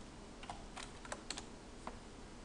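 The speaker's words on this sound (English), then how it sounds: "Ah, if I can type right." A computer keyboard typed on in a few sparse, separate keystroke clicks, close and fairly quiet over a steady background hiss.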